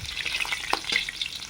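Pakora batter fries in hot oil with a steady crackling sizzle and a few sharper pops and stirring clicks, close and moderately loud, with no voices.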